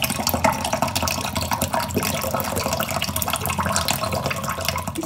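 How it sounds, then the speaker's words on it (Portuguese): Water runs steadily into a glass in a home kitchen, a continuous broadband splashing pour lasting throughout, close and fairly loud with no talking. "vou colocar minha água"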